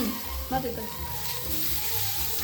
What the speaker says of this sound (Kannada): ಏನೇನು ಫ್ರೈ ಆಗತ್ತೈತಿ ಏನೇನೋ ಫ್ರೈ ಮಾಡ್ಯಾಳ್ರಿ